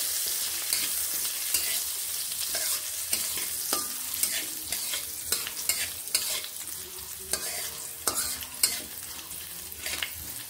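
Chopped red chili frying in a wok-like kadai, stirred with a spatula; steady sizzle with repeated scraping and clinking strokes of the utensil against the pan, close and fairly loud, no talking.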